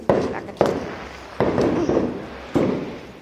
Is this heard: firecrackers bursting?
yes